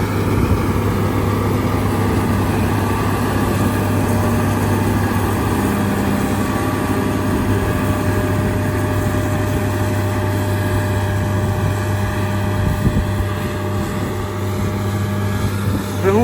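Steady, heavy engine drone from a John Deere S7-800 combine harvester with a 13.6-litre engine, cutting rapeseed, with a constant low hum and mechanical rumble, loud and close, continuing without a break.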